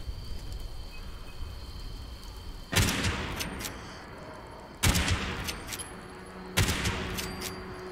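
Gunfire in the video game Fallout 76 comes as three loud, short bursts spaced a couple of seconds apart, each a dense crackling volley over a steady hiss with insect-like background chirps.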